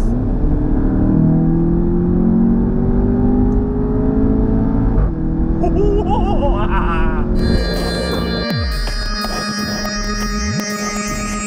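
A 2015 Audi TT with the 2.0 TFSI engine revs up in loud, rising surges, its tone climbing and shifting as it accelerates, followed by a whirring, buzzy stretch near the end; no voices are heard.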